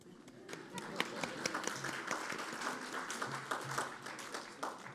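An audience claps at a fire rescue awards ceremony, a dense, fairly soft patter of applause running steadily throughout, with voices mixed in.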